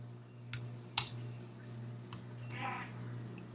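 Sparse keystrokes on a computer keyboard at a desk, a few isolated clicks spread unevenly over a low steady electrical hum, fairly faint and with no talking.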